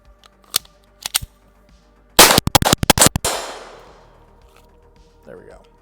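.22LR rifle firing exotic ammunition, including shot shells: two single sharp cracks, then a rapid burst of about six loud shots followed by a fading echo tail, recorded up close outdoors.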